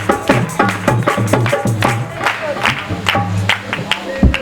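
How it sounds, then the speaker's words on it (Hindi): Audience applause at a church gathering, a few seconds of uneven clapping from a modest crowd, loud and close, with a voice speaking over it. "आप सबकी तालियों की गूंज में दावत दूंगा"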